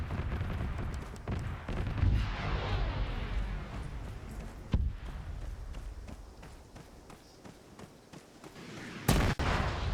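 A military video game set in an Indian–Pakistani training operation carries distant gunfire and artillery, with sharp shot cracks and heavier booms over a rumbling battlefield background, one loud blast near the end.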